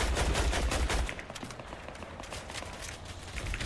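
Gunfire rattles in a Fortnite match, with rapid bursts of automatic shots in quick succession, loud at first and then lighter, with no talk over it.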